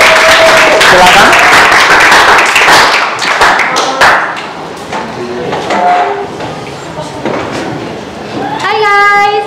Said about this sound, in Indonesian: kita kasih tepuk tangan yang luar biasa untuk kelompok 3